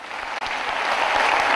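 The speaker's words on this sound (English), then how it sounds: "That's a beautiful clap that you can give from sitting out there." An audience applauds with steady, dense clapping that fills the space, broken only by a momentary dip before continuing evenly.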